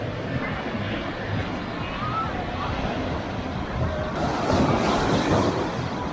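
Sea waves breaking on a white-sand beach with blue water, a broad continuous wash of surf mixed with wind noise, swelling slightly louder toward the end.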